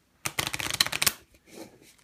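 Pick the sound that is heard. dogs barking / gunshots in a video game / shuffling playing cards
shuffling playing cards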